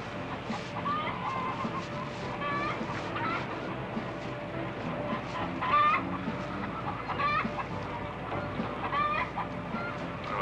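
Several chickens cluck in a steady, overlapping stream with brief bird calls and a faint steady hum beneath, close and continuous throughout.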